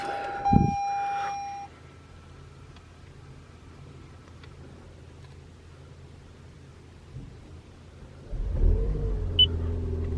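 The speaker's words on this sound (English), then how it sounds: "Okay, engine turned on." A click and brief whir open, then a quiet low hum, before the engine of a 2021 Toyota RAV4 Prime plug-in hybrid starts in cold weather with a rising rumble that settles into a steady idle.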